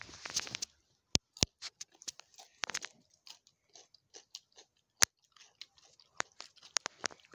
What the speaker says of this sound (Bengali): কী খাবো, তাও স্যালাড বানিয়ে খাচ্ছি